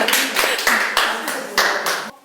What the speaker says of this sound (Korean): 박수로 시작할까요?